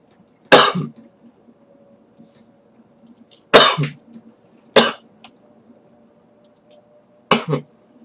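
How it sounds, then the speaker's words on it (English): Four separate coughs, close and fairly loud, spaced irregularly with short quiet stretches between them and a faint low hum underneath. "Sorry for the coughing"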